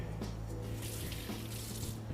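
Tap water runs steadily into a kitchen sink to dampen a kitchen towel, a continuous close splashing hiss with a few soft knocks, no voices.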